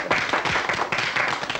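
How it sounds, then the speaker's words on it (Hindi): An audience claps steadily throughout, a dense continuous patter of many hands at fairly close range with no voices standing out. "तालियां।"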